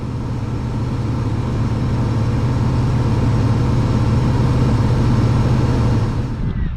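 A McConnell-Marc 990 tractor pulls a John Deere 2800 moldboard plow through a North Carolina field, its engine holding a loud, steady low drone close by for several seconds before easing off at the end.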